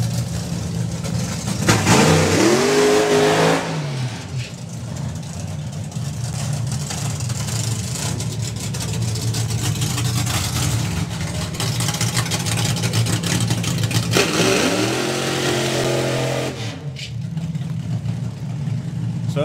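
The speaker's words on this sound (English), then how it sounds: "And you hear the other car now running on nitro." A nitro-fuelled drag racing car at the FIA/FIM Main Event 2025 runs loud and sustained, its engine note rising in two revving bursts near the start and again later, with a voice talking faintly underneath.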